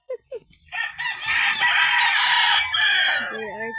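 Two chickens squabbling outdoors on a sunny day, a few sharp clucks giving way to a loud, sustained burst of squawking and crowing-like cries that tails off into shorter calls.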